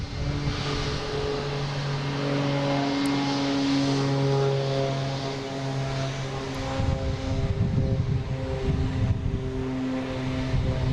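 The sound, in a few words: Cape Air propeller plane taking off at Boston Logan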